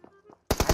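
Rifle fire from AKM and M4 assault rifles in the PUBG battle royale game: a quiet stretch with faint murmurs, then a loud burst of rapid automatic shots in the final moments.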